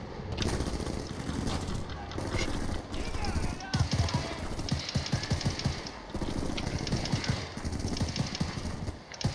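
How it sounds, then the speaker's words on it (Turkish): Grenade blast and gunfire in the Battlefield Bad Company 2 video game, a dense, continuous wall of battle noise with repeated sharp shots and heavy thumps throughout. "Dur şuraya bir bomba sallayayım. Aha salladım."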